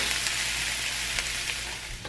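Chopped vegetables for butternut squash soup sizzle steadily in a pan as they cook down, a continuous close hiss with a low background hum and no voices.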